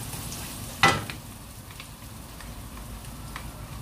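Garlic frying gently in a pan on low heat makes a soft, steady sizzle. A sharp clatter sounds once near the start, then the quiet crackle continues alone with no talking.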